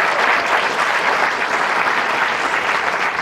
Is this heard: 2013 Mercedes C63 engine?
no